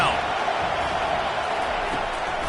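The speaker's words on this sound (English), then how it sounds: "Decibels rising as the crowd gets behind this defense on third down." Stadium crowd noise in a college football video game, Georgia against Penn State, rising on a third-down defensive stand: a steady, dense roar that holds at a loud level throughout, with a commentator's voice over it.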